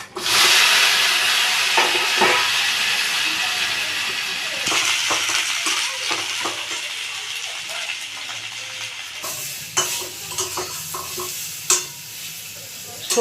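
Vegetables drop into hot oil tempered with five-spice in a home kitchen for shukto, a loud steady sizzle with stirring and scraping throughout, easing slightly as it continues, with no talk.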